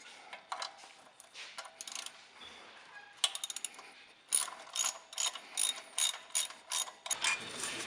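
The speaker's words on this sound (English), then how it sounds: "you got to remove this 10mm bolt right here" A ratchet wrench removes a 10mm bolt on a Jeep during a leveling kit install, with a first run of quiet, sparse clicking and then a steady series of louder rapid ratcheting strokes, close up and with no talk.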